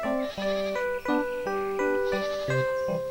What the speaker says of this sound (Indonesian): Clara menemani mereka memberikan makan kambing